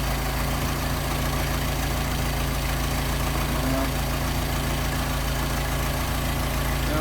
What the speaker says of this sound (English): well, we got our idle up here.